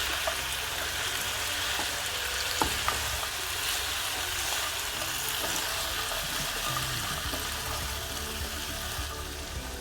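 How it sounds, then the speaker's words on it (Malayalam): Fried chicken 65 being stirred into sauce in a pan over a low flame gives a steady, close sizzle with soft scraping and stirring clatter throughout, no voices. "എന്നിട്ട് ചെറു തീയിൽ വെച്ച് നന്നായിട്ടൊന്ന് മിക്സ് ചെയ്യാം."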